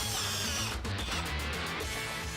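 Power drill driving a screw into a wooden attic staircase, a continuous close whirring motor that surges briefly partway through as the screw bites, loud and alone.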